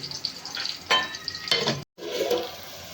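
Onions frying and sizzling in a pan while being stirred, a close, steady crackle with brighter bursts of hiss as the pieces are moved, then a brief cut to silence before the sizzle continues.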